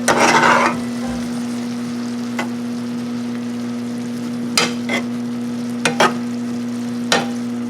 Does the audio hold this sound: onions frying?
yes